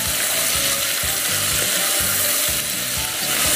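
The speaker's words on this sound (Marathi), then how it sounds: "कांदा तेलात चांगला परतून घ्यायचा आहे।" Thinly sliced onions sautéing in oil over a medium flame produce a loud, steady sizzle, with rhythmic scraping strokes of a spatula stirring them in the pan.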